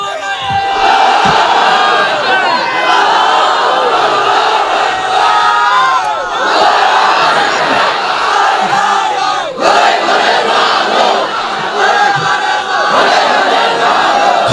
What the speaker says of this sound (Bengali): তাকবীরের ধ্বনি দিয়ে পুরা মাঠ গরম করে দেবে